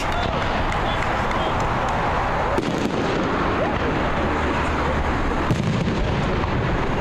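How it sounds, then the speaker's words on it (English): Fireworks crackle and pop at a soccer match, scattered bursts rising over the continuous roar of the crowd, with a commentator speaking over the noise. "And there are some fireworks over here in the left side as James gets a shot of that."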